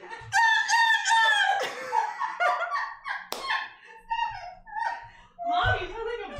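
A person's voice imitates a bird call with high, wavering squawks and clucking cries in quick bursts, loud and close, broken by short pauses and a bit of talk.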